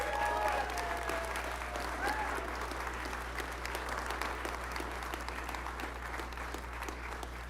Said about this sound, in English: Round of applause for Elon.